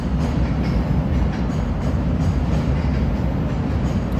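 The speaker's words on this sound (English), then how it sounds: "There, we'll get the train. Here's the red line." A Chicago Red Line train rumbles continuously with a heavy low-end roar and faint wheel clatter, loud and close throughout.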